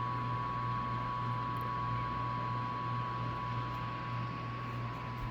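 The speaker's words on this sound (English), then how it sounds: "the motor sounds like this when running" The motor of a Ninja SLUSHi slushie machine runs with a steady, even whirring hum and a faint constant tone, moderately quiet and unchanging throughout, with no voices.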